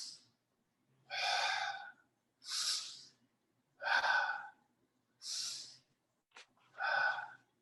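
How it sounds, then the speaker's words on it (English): A person takes a series of deep, audible breaths, with alternating loud, breathy inhales and exhales spaced about a second apart, close and clear in a quiet room. "can you do this and take a deep breath?"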